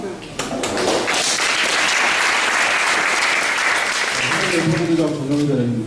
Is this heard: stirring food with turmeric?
no